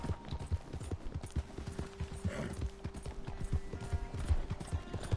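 Horse hooves clip-clop in steady rhythm in Red Dead Redemption 2, a ridden horse plodding along at close range with faint game ambience behind, no talk.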